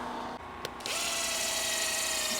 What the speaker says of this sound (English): and then agitate it with my drill brush